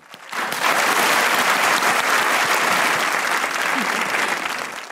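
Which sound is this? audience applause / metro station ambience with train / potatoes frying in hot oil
audience applause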